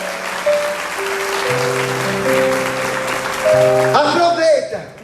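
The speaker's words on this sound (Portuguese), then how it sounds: "Uma salva de palmas para as mães que oram pelos filhos." Applause in a church service for mothers who pray for their children, a dense wash of clapping under sustained keyboard chords, with a voice rising over it near the end.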